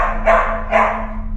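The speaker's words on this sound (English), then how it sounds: "a dog's going off?" Dog barking, two close loud barks about half a second apart over a low steady hum.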